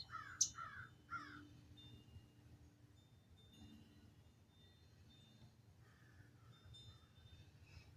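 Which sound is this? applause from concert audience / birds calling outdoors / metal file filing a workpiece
birds calling outdoors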